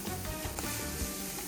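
Wild mushrooms sizzling and crackling in a pan, a steady close frying hiss with scattered sharp pops and crackles, no voices.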